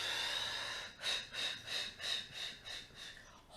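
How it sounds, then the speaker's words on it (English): Repeated forceful exhalations during a yoga breathing practice, about seven rhythmic breathy whooshes roughly every third of a second, close and clear with no talking. "Exhale all the breath out."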